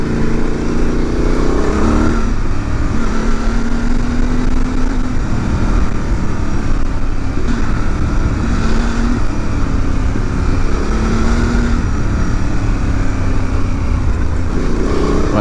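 Honda Transalp 750 motorcycle on a test ride, a continuous loud engine drone with wind rush and a few rising and falling shifts in pitch as the rider changes speed, no talking.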